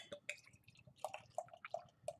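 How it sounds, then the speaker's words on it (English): A bottle of Founders Mas Agave beer is cracked open and poured, giving short fizzing, splashing and dripping sounds up close over a couple of seconds. "give it a crack and a pour"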